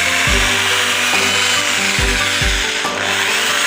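A sprinkler cover cap being drilled through to make a hole for a threaded sprinkler fitting: a loud, steady grinding rasp with a few low thumping bursts as the bit bites. No one speaks.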